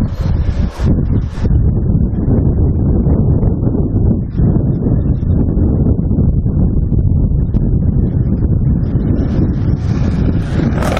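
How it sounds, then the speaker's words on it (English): Wind buffeting a microphone outdoors near Carlisle Castle, a loud continuous rumbling roar with gusty swells throughout, drowning out any other sound. "Bloody wind."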